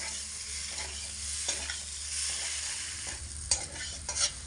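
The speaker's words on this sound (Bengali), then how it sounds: "এইভাবে কিন্তু অনবরত নাড়াচাড়া করেই কষাতে হবে আলু যাতে করে আলুর মধ্যে মশলাটা খুব ভালোভাবে ঢোকে" Potatoes with spices are stirred while frying in a pan for jeera aloo, giving a continuous soft sizzle under repeated scraping and clinking of a spatula, with a few sharper knocks near the end.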